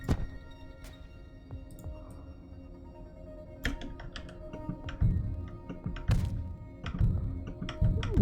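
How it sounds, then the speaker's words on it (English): Grenade launcher shots in the video game Heat Signature: a handful of dull, hollow thunks spread irregularly through the stretch, with light clicks and taps between them over a low, steady background hum. "Grenade launcher."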